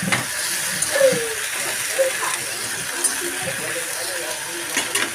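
Ginger paste sizzling in hot oil with well-browned onions, a steady frying hiss throughout with a few soft scraping stirs, moderately close and fairly quiet.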